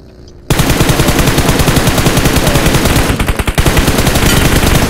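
Rapid automatic gunfire in PUBG Mobile, a loud, close, sustained burst of evenly spaced shots that briefly stutters before continuing to the end.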